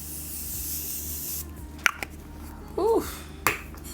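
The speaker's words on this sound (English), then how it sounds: "All right, so I'm gonna go into my setting spray," Morphe Continuous Mist setting spray gives a couple of short, close hissing bursts with sharp pump clicks, and a brief voice sounds between them.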